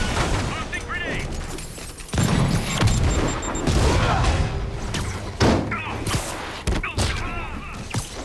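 Grenade blasts and gunfire in Marvel's Spider-Man during a fight with armed enemies, heavy booming thuds and bursts of shots over a constant clash of action, with game characters shouting throughout.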